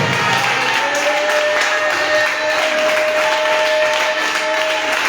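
A congregation at an intense prayer and spiritual combat night in Bingerville applauds Jesus, with dense, steady clapping that fills the space loudly and evenly throughout, with no voices on top.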